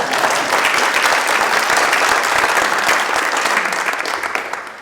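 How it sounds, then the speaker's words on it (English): A crowd applauds with dense, steady clapping that holds for several seconds before tapering off slightly at the end. "I'll take all the applause."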